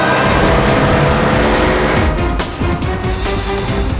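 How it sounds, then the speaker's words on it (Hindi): A car driven fast on a road, a loud continuous engine roar with tire noise and a slight dip midway, no talking. "जल्दी गाड़ी चला, इससे पहले कि देर हो जाए"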